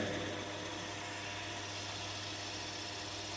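A direct current machine runs at 920 RPM, giving a constant low electrical hum with a bright, steady whine above it, close and uninterrupted, with no talk.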